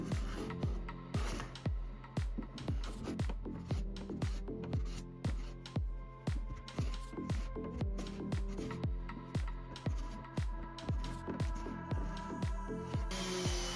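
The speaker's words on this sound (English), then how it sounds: "I use a hand plane to remove the dry glue," A hand plane scrapes dry glue off a wooden cutting board in steady, rapid, repeated strokes, a dense rasping shave about twice per second, close and continuous throughout.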